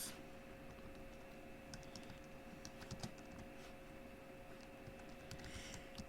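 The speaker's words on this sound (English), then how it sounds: "I'm typing." Typing on a computer keyboard during commentary on a competitive Pokémon match, a steady patter of faint key clicks over a constant hum and room noise.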